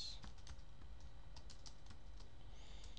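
Someone types JavaScript code on a computer keyboard, producing a quiet, irregular run of close key clicks with no talking.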